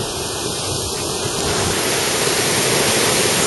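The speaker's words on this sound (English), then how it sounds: "By the waterfall, there's a bunch of trout right down there" A waterfall near a mountain lake basin, a loud, steady broadband rush of falling water with no pauses, close to the microphone and unaccompanied by voices.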